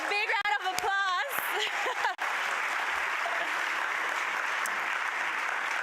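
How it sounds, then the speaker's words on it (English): An audience at a county address in a community college hall breaks into sustained applause, a dense steady wash of clapping that follows a brief stretch of speech and carries on alone to the end. "So please give a big round of applause."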